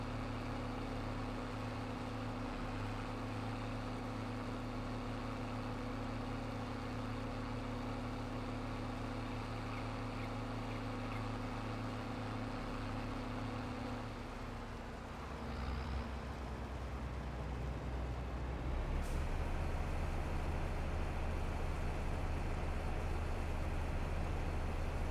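Old Steyr tractor engine in a farming video game, a steady low droning rumble that holds evenly, then shifts and grows slightly louder partway through, with no talking.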